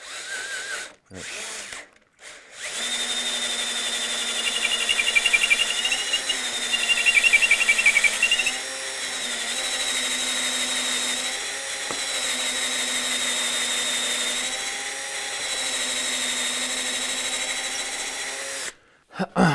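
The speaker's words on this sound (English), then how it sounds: "I'm going to push in, pull out, in order to kind of get some of those chips to eject so that it drills a little bit better" A power drill bores into the wood of a Telecaster guitar neck, whining steadily for about sixteen seconds with pitch dips as the bit is pushed in and pulled out to clear chips, bracketed by short bursts of handling noise.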